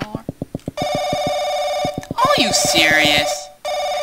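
An old-style telephone bell rings loudly and repeatedly in the horror game Paranoiac, clicking and jangling in bursts, while a person speaks over part of it.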